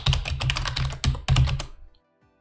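Someone types a URL on a computer keyboard in quick, close clatters of keystrokes with a brief pause midway, then stops into near silence.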